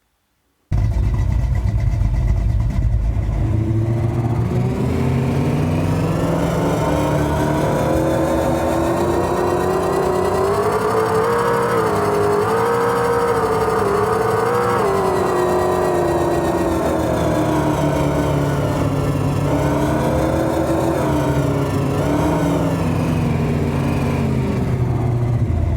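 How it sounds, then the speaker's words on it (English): A synthesized engine sound for the Air Splitter car, built from three layered Wwise containers, hums steadily and loud for the whole stretch, its pitch climbing and falling as the car picks up and sheds speed, with no talk. "here is the overall sound with the 3 containers combined"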